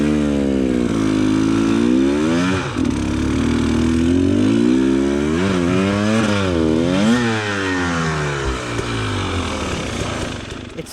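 A hard enduro motorcycle at a Battle of the Goats race climbs a hill, its engine loud and close, revving up and down in rising and falling bursts and straining throughout.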